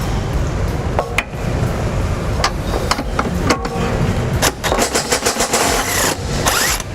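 An impact wrench with an 18mm socket on an extension drives hitch bolts under a 2019 Ford Explorer, giving a steady buzzing rattle with short sharp hammering bursts, loudest toward the end.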